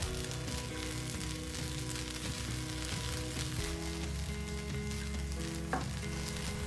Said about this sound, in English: And now we'll flambe all of this in a little bit of brandy.